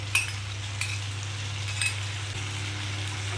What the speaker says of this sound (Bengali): এটাকেও আমি ভালো করে পুরো তরকারিটার মধ্যে মিশিয়ে নেবো